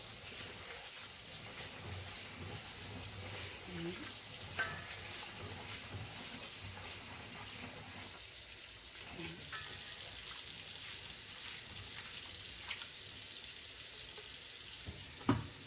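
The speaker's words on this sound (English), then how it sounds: "So just room temperature water, and then rinse the rice a couple times." Rice being rinsed in room temperature water, a faint, steady watery hiss and splash with occasional small knocks, quiet and close.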